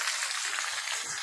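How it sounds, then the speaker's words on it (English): Chicken pieces frying in hot oil for Jamaican brown stew chicken, a steady, fairly quiet sizzling hiss with no talk. "Chicken frying."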